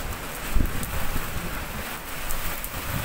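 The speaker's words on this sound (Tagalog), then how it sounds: "malakas ang hangin" Strong typhoon wind roars and buffets steadily at night in Hong Kong, with gusts and rain-like hiss, rushing noise filling the whole clip.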